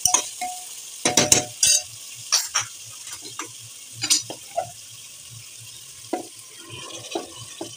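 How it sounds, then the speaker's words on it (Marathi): Water poured onto browned mutton in a hot pan, several sharp hissing bursts and splashes in the first seconds that settle into quieter intermittent sizzles and stirring knocks, close and with no talk. "आता पाणी टाकून घेऊया."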